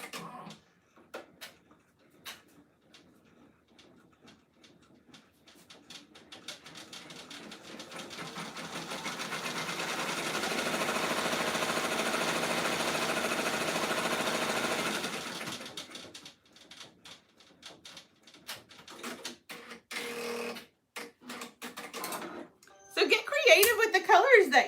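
Embroidery machine stitches an appliqué design on a shirt, a rapid steady mechanical chatter that swells to a sustained run mid-way, then stops and gives way to intermittent clicks, with people talking around it.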